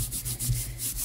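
Folded paper being rubbed down flat along a score mark while making an envelope journal, a steady close dry rubbing and smoothing sound with soft repeated strokes, no talking.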